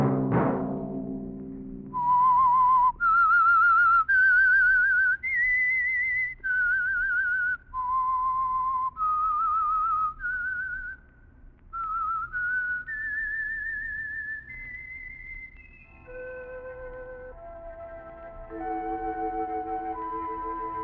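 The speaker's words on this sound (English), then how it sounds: "Let that whistle be your signal for the Signal Oil program, The Whistler" A whistled theme tune for The Whistler, a 1948 radio drama, carried by one clear solo whistler. The melody steps up and down in distinct held notes and ends with lower sustained tones.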